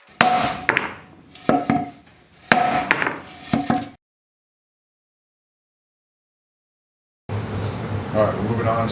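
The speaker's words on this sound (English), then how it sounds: "A big piece of wood and a regular hammer." A regular hammer pounds on a big piece of wood during a Honda Goldwing engine removal, close and loud, in two bursts of sharp ringing strikes followed by silence and then an indistinct low rumble.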